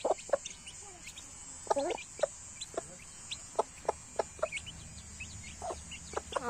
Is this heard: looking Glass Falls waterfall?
no